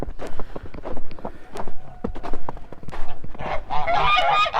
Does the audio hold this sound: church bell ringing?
no